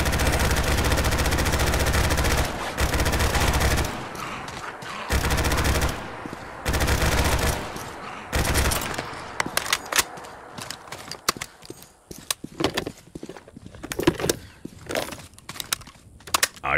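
An M249 machine gun in a modded Fallout 4 video game fires loud sustained bursts. Longer streams give way to choppier, rapid short volleys and single shots, with brief gaps between bursts.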